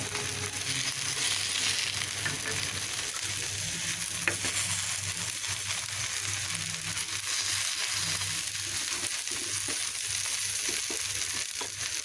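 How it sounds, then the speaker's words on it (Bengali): Round slices of eggplant frying in a pan, a dense steady sizzle and crackle with occasional stirring scrapes, close and continuous without talk. "আমি শুরুতেই বেগুন ভাজি করছি এই যে টাকা চাকা করে কেটে বেগুন ভাজি করে"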